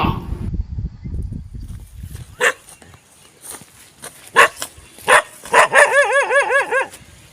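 A dog barks in a series of sharp, loud barks spaced out over several seconds, then ends in a rising, wavering whine or yelp. A person speaks briefly near the start.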